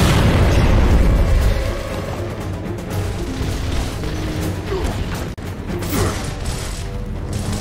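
Frag grenade explosions in the video game Gears of War, loud booming blasts and rumbling debris at the start that fade into a dense, noisy battle bed with mechanical clatter and a brief dropout near the end.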